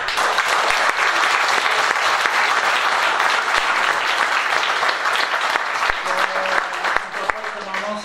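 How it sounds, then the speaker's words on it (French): Audience at a children's municipal council election event applauding a colleague, lively close clapping sustained for eight seconds, with a few voices emerging toward the end. "Messieurs, dames, je vous prierai d'applaudir mon collègue."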